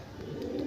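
Pigeons at a loft coo in a low, steady murmur that runs through the whole brief moment, close and moderately loud.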